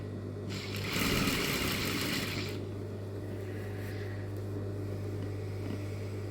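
A sewing machine stitches a skirt waistband seam, one nearby burst of fast rattling stitching lasting about two seconds, then a faint steady motor hum and brief quiet whirs.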